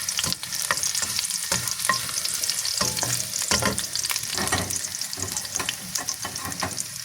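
Garlic and onion fry in a pan while being stirred for sotanghon with vegetables, giving a loud, continuous sizzle broken by scraping stir strokes, with no talking.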